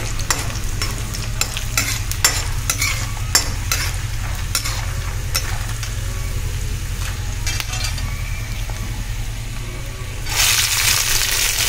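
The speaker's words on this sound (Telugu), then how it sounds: "ఇప్పుడు తాలింపు గింజలు, ఎండుమిరపకాయలు వేసుకున్నాము. ఇవి కూడా వేగనిద్దాం." Tempering seeds and dried red chillies fry in oil for vangi bath, giving a continuous crackling sizzle with repeated scraping stirs, swelling louder near the end.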